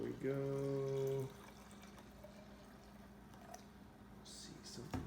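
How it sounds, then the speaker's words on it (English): Vinegar poured from a container over chicken bones, a close, soft liquid trickle and splash running for a few seconds after a brief voice at the start, with small clinks near the end. "we'll just start pouring the vinegar in and see"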